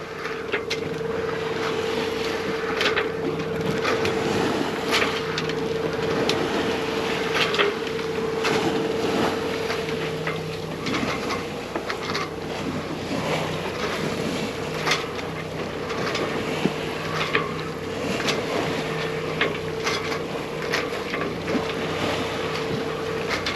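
Steady wind rushing over a sailboat at sea, with a constant low hum and occasional creaks and slaps throughout.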